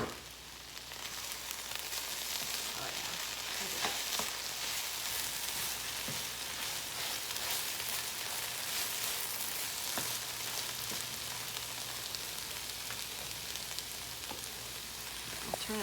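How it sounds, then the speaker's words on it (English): Scrambled tofu and vegetables sizzle steadily in a hot pan, a dense, continuous frying hiss close by with occasional faint stirring scrapes. "it's been cooking, sauteing for a little bit"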